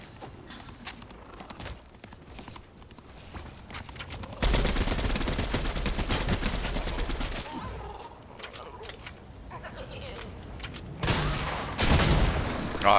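Gunfire in the video game Fortnite, with a sustained loud burst of rapid shots in the middle, scattered single shots and footsteps before and after, and more firing near the end.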